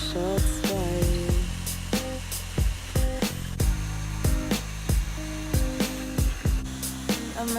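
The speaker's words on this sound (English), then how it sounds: "I'm just going around and making holes." A power drill bores holes in a car's rear fender while over-fenders are fitted to a Subaru GC8 22B, giving repeated short whirring bursts with pitch drops as the bit bites, close and fairly loud.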